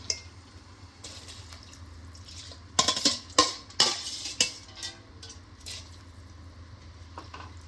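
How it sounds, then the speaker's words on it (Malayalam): Rice tipped into a pot of boiling water on the stove and stirred for jackfruit dum biryani: a few sharp clinks and splashy scrapes close by mid-clip over a low, steady simmering hiss. "വെള്ളം തിളച്ചിട്ടുണ്ട്. നമുക്ക് ഇതിലേക്ക് അരി ഇടാം."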